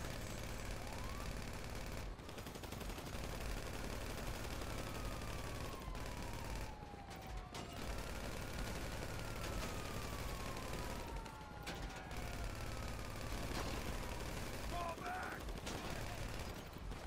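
Gunfire and bursts in GTA V Online's Asset Seizure SecuroServ mission, dense and continuous, with sirens sweeping through a busy game mix while players talk over it.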